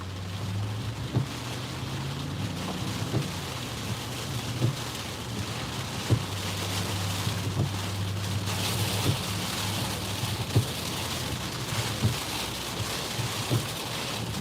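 Steady rain and gusting wind from Tropical Storm Isaias making landfall in Myrtle Beach, South Carolina, a dense broadband wash with occasional low thumps and knocks scattered through it, constant and fairly close, with no voices.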